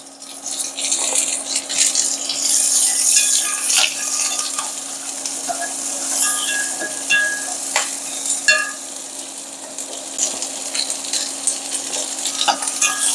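Garlic and carrots stir-frying in hot oil for fried instant noodles with beef: a continuous sizzle with frequent scraping and clinking from a utensil against the pan, close up and without talk.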